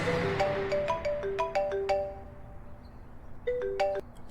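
A phone ringtone plays a bright, repeating chime melody of short tonal notes, pauses briefly, then starts the tune again, clear and alone.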